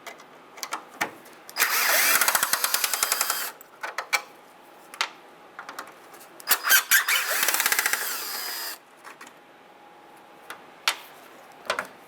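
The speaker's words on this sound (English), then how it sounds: "We're going to have to remove these 2 top Phillips screws." Two top Phillips screws coming out of the grille on a 1992–1996 Ford F-150, driven by a power tool in two whirring bursts with short ticks and clicks between them, near and loud, no talking.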